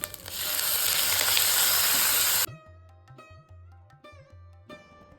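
Radish and curry leaves hit hot oil in a pan with a loud, dense sizzle and spitting hiss. After a couple of seconds it cuts away to a quiet background with faint tonal sounds.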